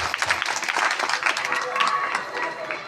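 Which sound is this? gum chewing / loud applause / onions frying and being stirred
loud applause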